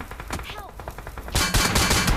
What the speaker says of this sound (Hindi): गोली पे गोली चल रही है हर तरफ से।